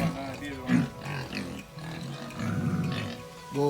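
Pigs of a few months old grunt and snort at a pig farm with fruit and vegetable growing, the low rough calls coming in bursts close by, with people talking intermittently over them.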